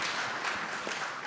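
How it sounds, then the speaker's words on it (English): Applause from an audience at a weekly community meeting, a steady crackle of many hands clapping for just over a second, moderately distant and even in level with no talk over it. "let's applaud that"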